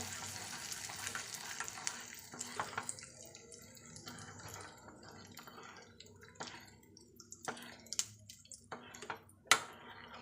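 Asafoetida and a little flour stirred in hot ghee, faint bubbling sizzle with scattered soft clicks and scrapes of a spoon, growing sparser and sharper toward the end, close and quiet.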